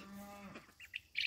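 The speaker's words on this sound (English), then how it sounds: "You can hear him mooing." A cow lows faintly from far away by a barn on a farm, a brief droning moo followed by a few soft bird chirps.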